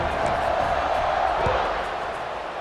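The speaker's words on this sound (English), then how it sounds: "this crowd now ready to get behind them" Stadium crowd noise from EA Sports College Football 26, a steady dense roar of many voices before a kickoff, holding loud and even throughout with a slight fade near the end.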